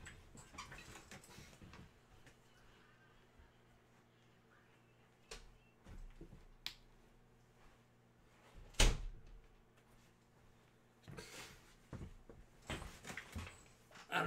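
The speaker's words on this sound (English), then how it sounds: "Let me close my door," A bedroom door is shut in a quiet room, giving a few sharp knocks and thuds scattered among soft handling noises and faint background sounds.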